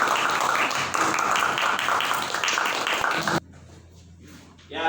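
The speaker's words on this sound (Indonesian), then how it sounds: "Tepuk tangan sekali lagi." Classmates clap after a group presentation in a classroom, a busy burst of hand clapping lasting a few seconds before stopping abruptly, leaving a quiet room with faint sounds.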